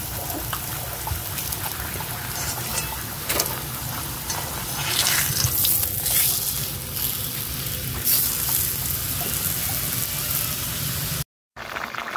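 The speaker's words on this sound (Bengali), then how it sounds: "তো চলো এক এক করে সব এগুলো ভাজা করে নিয়ে দেখি" Food frying in a pan in a home kitchen, giving a steady, close sizzle with a watery crackle that runs throughout, then cuts out briefly near the end.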